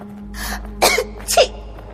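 A woman coughing from dust, three quick harsh coughs in close succession, the last two sharp and loud, heard near and alone over a low steady hum.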